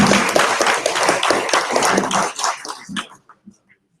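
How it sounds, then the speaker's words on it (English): An audience at an MC event in Provo applauds loudly and steadily for about two seconds, then the clapping thins out and trails off into a few scattered last claps. "Another round of applause."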